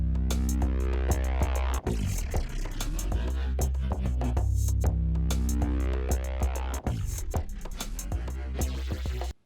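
A loud electronic beat made in Ableton Live, with heavy bass, punchy drum hits in a steady rhythm and layered synth tones.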